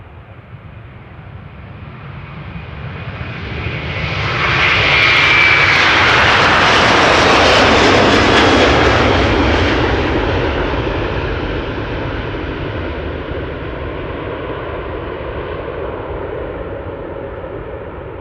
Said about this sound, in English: Delta Airlines Flight 91 to Orlando, Florida is now moving. The November 827 November Whiskey A330 on its way.